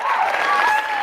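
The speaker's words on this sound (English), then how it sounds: "Come on, let's get some hand claps." Audience hand claps in a steady, dense wash of applause, fairly loud and continuous with no pauses.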